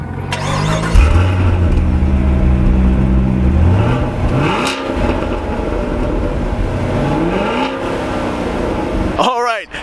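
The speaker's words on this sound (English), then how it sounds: "It's a Camaro SS. It's automatic, it's the 8-speed, but it is fast as heck." A Chevrolet Camaro SS with an 8-speed automatic revs loud and close, its engine pitch climbing through gear changes, dropping, then rising again before a sharp mechanical whine at the end; talk runs over part of it.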